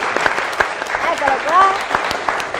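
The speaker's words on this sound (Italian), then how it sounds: "Un applauso a Claudio Romanzin, il nostro filologico." Studio audience applauding a guest introduced on an Italian quiz show semifinal, steady clapping running throughout at moderate level with brief voices and musical tones mixed in.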